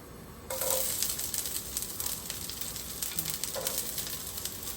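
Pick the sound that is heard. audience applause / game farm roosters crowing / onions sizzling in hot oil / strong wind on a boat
onions sizzling in hot oil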